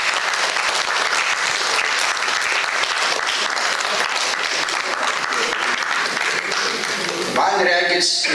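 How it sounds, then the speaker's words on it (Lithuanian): Sustained applause from a festival audience at an international accordion players' festival, a dense steady wash of many hands clapping close and loud throughout, with a brief shift in texture near the end. "Man regis, jūs silpnokai plojat"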